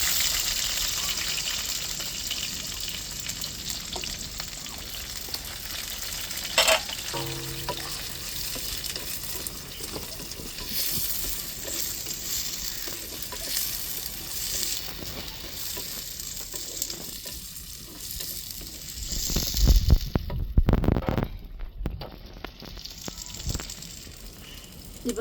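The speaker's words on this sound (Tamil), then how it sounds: "வெங்காயத்தை நல்லா வதக்கி விட்டுக்குருவோம்." Onions sautéing in a hot pan for chicken fry, a steady close sizzle and crackle running throughout, with a brief clatter of stirring around midway and louder spattering bursts toward the end.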